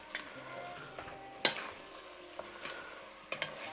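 Minced beef with a heaped teaspoon of thyme, basil and oregano frying in a pan, stirred with a few sharp scraping knocks against a faint steady sizzle, fairly quiet and close, no talking.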